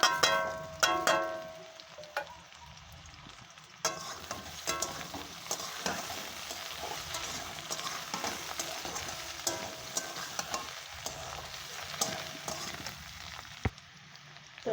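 Ginger and chili sizzle in hot oil in a pan, a steady close crackle broken by clattering stirring, with no talking.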